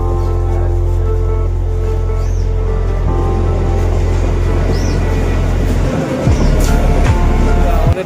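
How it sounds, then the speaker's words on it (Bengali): A train pulling into a railway station on the way to Kaikhali, a loud steady low rumble filling the scene, with sharper rail screeches and clanks near the end and faint voices in the crowd. "আমাদের ট্রেন চলে এসছে ঠিকঠাক টাইমেতেই"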